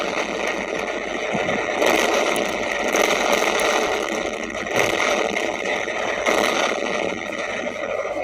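A 2022 Harley-Davidson Fat Boy motorcycle engine runs steadily at close range, a continuous loud mechanical rumble with a slightly fluctuating drone and no speech over it.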